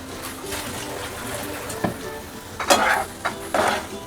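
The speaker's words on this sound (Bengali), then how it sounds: "এগুলি আমি পেঁয়াজের সাথে একসাথে ভেজে ফেলব।" Carrot, red and green capsicum and onion fry together in a pan, a gentle sizzle punctuated by a few louder bursts of stirring and spatula scrapes near the end, close and free of speech.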